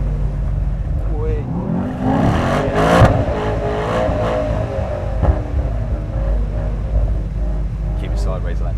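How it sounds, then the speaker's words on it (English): A Mercedes-AMG car drifts sideways on a track, its engine revving up and down in loud, wavering surges with tyre noise. Voices talk over it. "Keep it sideways, Lancy. I've got to keep it sideways"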